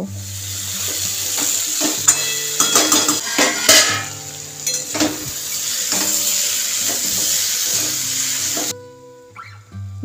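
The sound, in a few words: stir-frying taro, potato and fried prawns in spice paste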